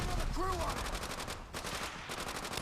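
Rapid automatic gunfire rattles in Call of Duty: World at War during a beach assault on a building, sounding as fairly quiet, evenly spaced bursts of shots against a dense battle background.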